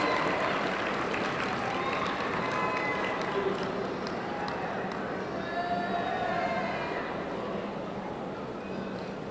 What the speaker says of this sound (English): Let's give our medallion winners another round of applause.